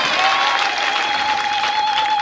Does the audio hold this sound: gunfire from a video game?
no